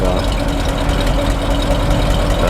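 A 1952 Ford F4 truck engine idles at the exhaust on a cold day, a loud, steady low rumble with an even pulsing throb recorded right at the tailpipe.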